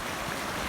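Ocean waves washing in at a beachfront with large boulders in San Miguel, San Antonio, Zambales, heard as a steady, fairly loud broadband wash with no distinct breaks over a brief moment.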